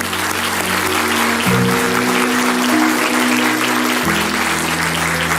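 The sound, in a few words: congregation applauding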